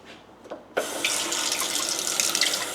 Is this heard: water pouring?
yes